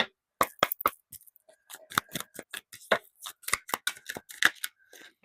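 Tarot cards handled and drawn during a reading, crisp separate snaps and flicks in an irregular rhythm, close and clear, with one brief spoken word.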